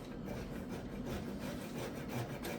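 Whole nutmeg rasped against a grater for a fettuccine dish gives a continuous, close scratchy rubbing that goes on steadily with no voice over it.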